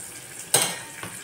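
Tomatoes dropped into softened onions frying in a pan give a sudden loud sizzle that quickly fades, with a second smaller burst about half a second later.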